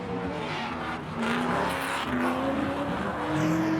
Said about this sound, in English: so there's a bit of drifting on's board here